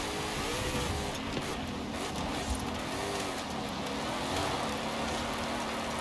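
A steady, rumbling engine of a 2024 Ford Mustang in the video game Forza Horizon 5 drones throughout, with shifting pitch like revving, loud and continuous with no talking.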